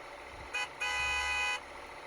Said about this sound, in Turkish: Basma kornaya.